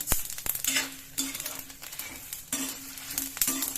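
Cumin, chilies and coriander seeds crackle as they fry in a pan for bisi bele bath masala powder, with soft sizzling and a few sharp clinks of a spoon stirring against the pan, close and fairly quiet.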